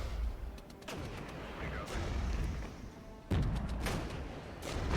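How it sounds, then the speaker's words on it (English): Mortar rounds land during a Regiments battle as Soviet T-64s advance against Leopards, a series of heavy, muffled booms and rumbling impacts rolling one after another, with a big hit past the midpoint and no talking. "now we've got mortars coming in"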